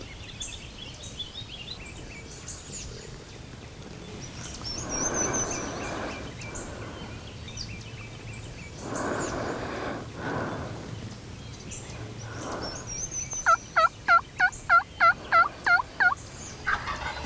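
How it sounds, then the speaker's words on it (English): A wild turkey gobbler gobbles outdoors in open country, a rapid rattling burst of about eight sharp pulses near the end, moderately close and clear above faint ambient noise and soft rustling. "There's a gobbler."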